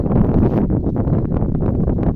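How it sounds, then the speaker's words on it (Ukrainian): Gusty wind buffets the microphone in steady low rumbling bursts, loud and close, with no voices. "щось вітер такий"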